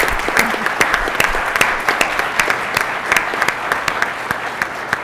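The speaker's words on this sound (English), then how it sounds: "Please join me in a round of applause for our speakers." An audience at a Canada 150 event applauds its panel speakers, a dense, sustained round of clapping heard up close without pause.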